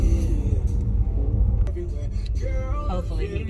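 An Amazon delivery truck rumbles past on a residential street, a close low engine drone that swells and fades, with people talking over it.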